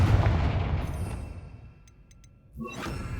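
Confringo fire-blast spell cast in Hogwarts Legacy, a loud booming blast that decays into a long rumbling tail, followed by faint chiming sparkles and a softer second burst near the end.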